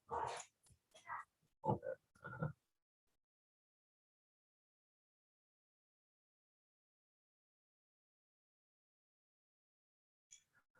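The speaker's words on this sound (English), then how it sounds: "sorry, my dogs are barking" Several short, sharp barks in quick succession at the start, then a long stretch of near silence before a faint noise near the end.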